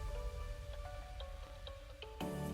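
Instrumental break section of an electronic dance track produced in FL Studio, played without its vocal: sustained synth chords and bass with rhythmic hits, then a brighter, denser burst near the end.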